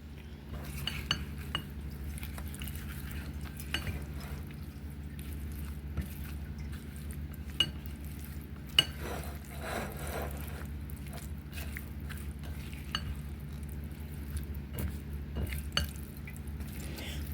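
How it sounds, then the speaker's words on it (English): Raw pork bung being mixed with seasonings in a bowl to coat it, soft wet squishing with scattered clinks of a utensil against the dish over a low background hum, no talk. "we are going to mix this well and make sure everything is coated"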